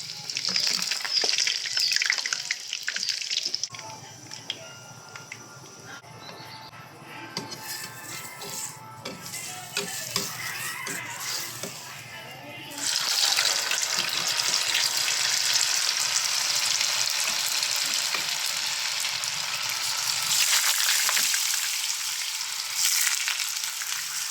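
Sokwa fries in a pan with a loud, continuous hiss and crackle, quieter with occasional utensil clinks in the middle, then swelling again into a strong, sustained sizzle.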